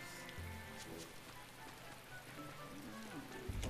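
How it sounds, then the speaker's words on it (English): Rain in the rainy Westgand area of the video game Tales of Berseria: a faint, continuous soft patter and hiss under low game tones and ambience. "It's raining so much in Westgand."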